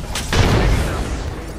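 A grenade blast in the battle-royale shooter Apex Legends: one sharp, loud boom followed by a dense, rumbling roar that slowly fades.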